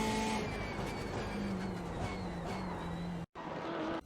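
A BMW M8 GTE race car at Road America in iRacing brakes hard, its loud, continuous engine note sliding lower as it slows, with a brief cut in the sound near the end.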